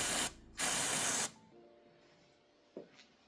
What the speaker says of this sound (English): Clean it off with a brake cleaner.